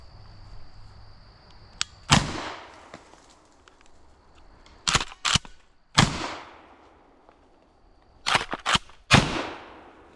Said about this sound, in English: let's see what buckshot can do